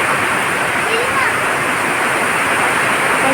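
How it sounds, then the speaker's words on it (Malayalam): Heavy rain falls in Ernakulam as a loud, steady, close hiss of water, constant for the whole stretch, with a voice faintly present beneath it. "ഒരു രക്ഷയില്ല നല്ല മഴയാണ് ഇവിടെ"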